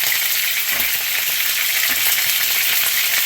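Pork carnitas fry hard in a hot pan, a dense, steady sizzle with continuous spitting and splattering throughout, loud and close, with no voices.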